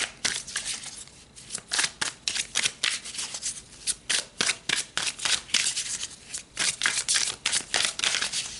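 Tarot cards shuffled by hand in quick, crisp riffling bursts, repeated in a steady rhythm for several seconds, close and loud with no talking.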